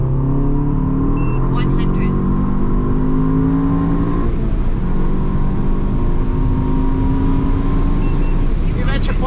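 Engine of a Skoda car pulling steadily as the driver opens the throttle on a downhill road, a continuous loud motor drone that shifts pitch midway and carries on throughout.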